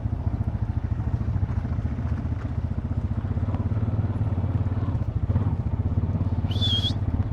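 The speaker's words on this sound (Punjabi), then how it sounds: "ਉਹ ਬਾਈ ਜੀ ਮੋਟਰਸਾਈਕਲ ਵੀ ਲਈ ਫਿਰਦੇ ਦੇਖ ਲਓ" A motorcycle engine idles with a steady, throbbing low rumble throughout on a New Zealand dairy farm, joined briefly by a high chirp near the end.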